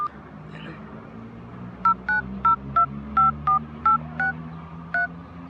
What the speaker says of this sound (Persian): جواب نمیده دیگه. زنگ بزن به شماره دیگه.